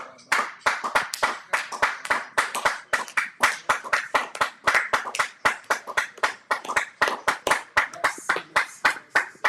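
Congregation clapping in rhythm during a French-language prayer service, a steady run of sharp, even hand claps repeating about three times per second, loud and close, with no voices over them.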